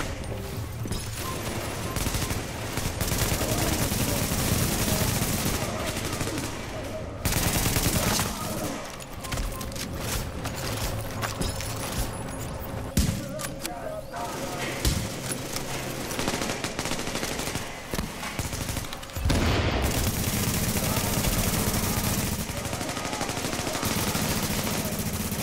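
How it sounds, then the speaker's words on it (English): Enemy gunfire rattles almost nonstop in The Division, with loud automatic bursts and overlapping shots filling the scene and only brief dips between volleys. "these guys are shooting us"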